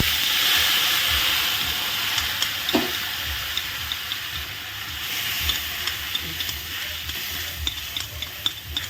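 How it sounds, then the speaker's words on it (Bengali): Ground cumin, chili and coriander with a splash of water fry and get stirred in a pan for a paneer curry, giving a steady close sizzle broken by repeated small scraping taps of the spoon throughout. "মশলাটা ভালো করে কষিয়ে নেব"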